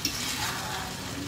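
Tomato-flavoured rice is stirred in a pot on the stove, a soft, continuous scraping and sizzling heard close up with no talk.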